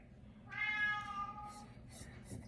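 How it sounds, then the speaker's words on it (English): A house cat meows once, clearly and close, in a quiet indoor kitchen, followed by faint soft rustling. "That would be my cat."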